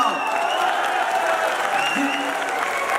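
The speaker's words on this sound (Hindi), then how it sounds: "आखिरी जवाब, ताली बजाओ।" A seated audience claps steadily and densely throughout at a spiritual discourse, a sustained wash of applause with a few voices faintly mixed in.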